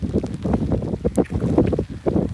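Strong wind during a rainstorm, gusting in heavy buffeting bursts against the microphone, loud and close, with no speech.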